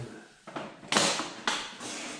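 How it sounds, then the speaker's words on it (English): The plastic handle housing comes off a Windsor Sensor XP12 upright vacuum with a few close creaks, scrapes and sharp plastic clicks spread over a couple of seconds, with no talking. "we're going to remove the handle housing"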